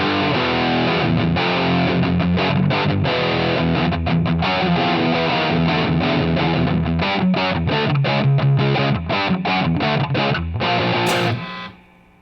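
An Eastwood Airline Mercury electric guitar played through traditional rock distortion, thick saturated chords and riffs ringing loud and steady for about eleven seconds before cutting off.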